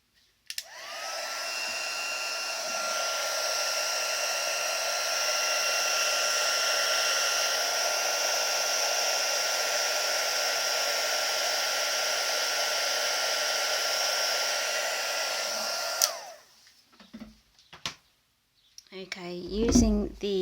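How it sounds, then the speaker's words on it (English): A heat embossing tool, preheated before use on a card, blows hot air in a loud, steady whir for about fifteen seconds, then cuts off into near silence. "I preheat my heat tool, just so that it heats up faster and it doesn't warp the card"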